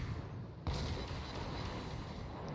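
A warship's main battery fires in a naval video game, a single sharp boom followed by a heavy rumbling roll, set against steady background noise.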